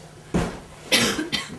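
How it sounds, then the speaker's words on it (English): Three harsh coughs in a row, close and fairly loud, the middle one the strongest, with short quiet gaps between them. "Coughing up stuff."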